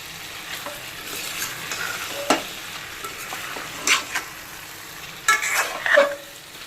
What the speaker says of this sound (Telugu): ఇవన్నీ వేస్తాను కదా, ఒకసారి కలుపుకోవాలి చికెన్